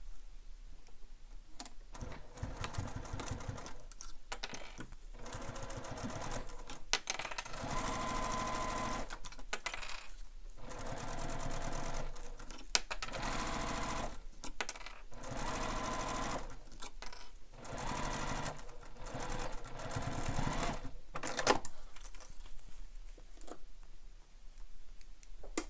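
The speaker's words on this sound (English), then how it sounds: "I'm just using a basting stitch." A sewing machine runs a basting stitch while a bag is sewn, in a series of short stitching bursts separated by brief pauses, quiet and close, with no talking.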